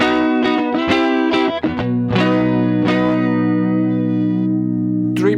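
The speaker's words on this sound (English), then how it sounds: "Let's add a chorus pedal in front and see how it like sounds" Electric guitar run through a chorus pedal into a JHS 424 gain stage, lo-fi and saturated, with a wobbling, phaser-like chorus: several strummed chords ring out and sustain loudly, then a final pick attack near the end, no talking.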